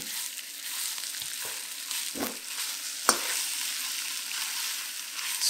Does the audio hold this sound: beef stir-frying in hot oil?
yes